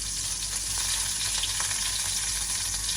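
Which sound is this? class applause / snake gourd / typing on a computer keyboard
snake gourd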